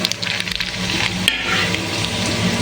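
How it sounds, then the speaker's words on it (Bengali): Whole spices drop into hot oil with sugar for a large batch of chicken kosha, crackling and sizzling loudly and steadily, close up and without any talking. "ফোড়নগুলো আমি দিয়ে দিলাম।"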